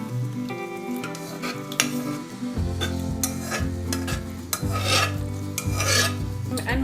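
Vegetables are added to a hot pan of pav bhaji and stirred, with clattering spoon knocks and scraping over a steady sizzle, close and fairly loud, with a musical backing underneath.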